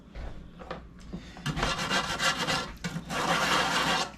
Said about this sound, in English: I'm just kind of mashing these and mix them as we go.